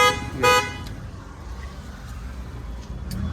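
A short, bright car horn toot sounds once near the start, then fades into quiet road noise with a faint later beep.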